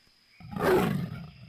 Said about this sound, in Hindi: तेंदुए के गुर्राने की आवाज है।